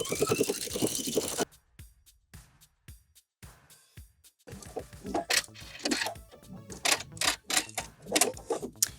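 Domestic sewing machine edge-stitching along the fold of a rolled hem on a pants pocket, heard as a steady rapid needle clatter with a few short bursts and pauses before it settles into continuous stitching.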